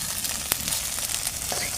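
Squeezed soybean chunks fry in hot oil in a pan, a dense, even sizzle and crackle heard close up with a few sharp spatters, no voices.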